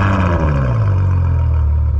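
A Ferrari engine starts up loudly, a dense low rumble that settles into a steady idle, heard close and alone.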